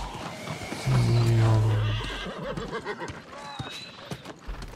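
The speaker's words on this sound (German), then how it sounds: "Dann wird das Pferd ein bisschen schneller." A horse in the video game New World neighs loudly for about a second, then hooves keep pounding at a gallop under the faint game ambience, with no voices.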